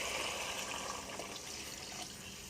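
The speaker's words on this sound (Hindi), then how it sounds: "यहाँ पे हम इसके अंदर पानी ऐड कर देंगे।" Water is poured into a pan of fried vegetables while making vegetable rice, a steady gush and splash filling the pan for a few seconds, close and without talk.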